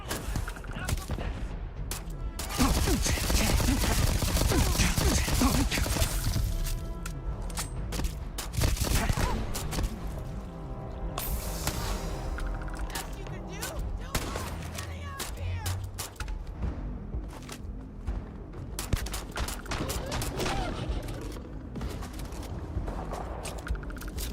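Heavy gunfire in a Starfield firefight, dense rapid bursts and automatic fire going on and on, loud and close, with shouting voices and other combat noise mixed in.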